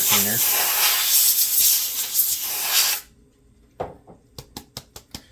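Compressed air blasts loud and hissing over a broken-screen iPad 7 for about three seconds and then cuts off, followed by a few sharp taps and light knocks close by.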